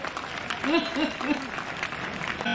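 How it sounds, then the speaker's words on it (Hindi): Applause from a crowd at a Dussehra fair poetry recital in Kota, a diffuse clapping wash under a voice with rising tonal syllables, fairly brief and moderate in level. "उनके सम्मान में जोरदार तालियां बजाइए।"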